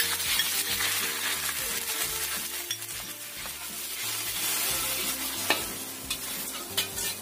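Steady sizzling of homemade oyster sauce frying in a pan, with stirring scrapes and a few light clinks of a utensil throughout.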